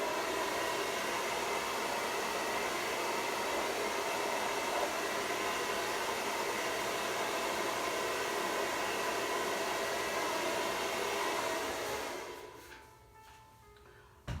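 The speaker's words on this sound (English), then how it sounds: "one last go at this dryer." A hair dryer blows steady, loud broadband air onto paint for about twelve seconds, then cuts off abruptly, leaving a quiet room.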